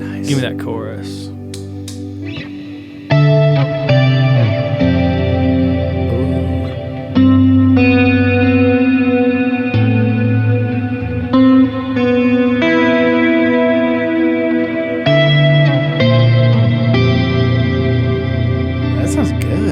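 A Walrus Audio Julia chorus pedal shimmers over electric guitar chords, sustained and strummed in a steady phrase, with brief speech at the start before the chorused guitar takes over.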